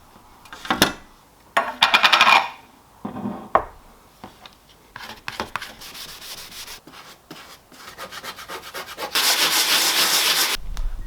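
Hand sanding of body filler on a Nissan R32 car body, with bursts of rough scraping and rubbing strokes that grow steadier and louder toward the end, close up and without talk.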